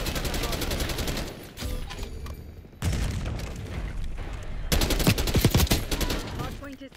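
Rapid bursts of AK rifle fire in a Call of Duty Black Ops 6 match, with several loud automatic volleys separated by short gaps, the last burst the heaviest.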